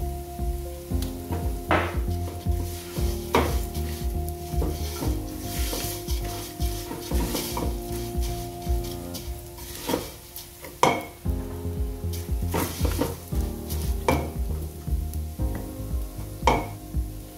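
Curry with rice and beef stirred in a sizzling pan, with steady frying hiss and repeated scraping strokes of a utensil against the metal, close and continuous with no talk.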